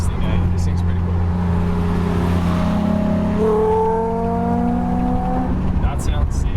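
A Toyota MR2 car engine drones steadily and revs up through rising harmonics, loud and close, with a voice speaking briefly over it.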